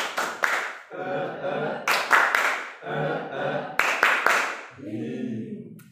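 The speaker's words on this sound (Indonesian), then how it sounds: "Tepuk semangat." A group performs the rhythmic 'tepuk semangat' cheer clap, with bursts of sharp, patterned claps alternating with chanted group voices in a call-and-response rhythm.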